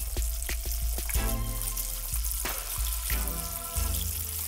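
Fish sizzles hard in hot deep-frying oil, a loud, dense crackle with sharp pops and bursts, close by and alone.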